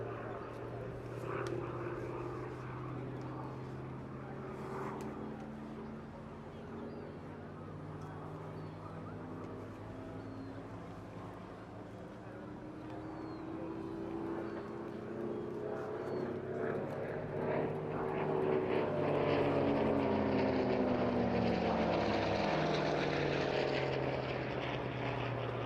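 A propeller aircraft with a throaty engine flies a display at the Eastbourne International Airshow, its drone steady and fairly distant, then swelling and shifting in pitch as it passes nearer.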